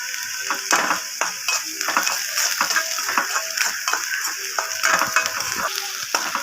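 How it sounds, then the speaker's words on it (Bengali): Chopped ginger and garlic fry in a pan for a small-shrimp paste dish, giving a bright sizzle with repeated scraping and clicking stir strokes in an uneven rhythm, close and fairly loud. "আমি আদা রসুন যে কুচিয়ে গেছিলাম সেটা দিয়ে দিচ্ছি এবার আমার এটা ভালো করে আমি একটু ভালো করে হালকা লাল লাল করে ভেজে নেব"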